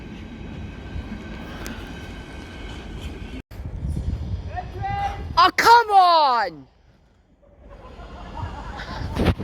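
Freight train passing Kensington Olympia station, a rumbling roll of wagons on the rails with a loud descending horn-like screech in the middle, while someone speaks briefly nearby.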